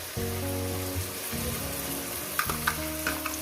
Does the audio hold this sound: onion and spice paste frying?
yes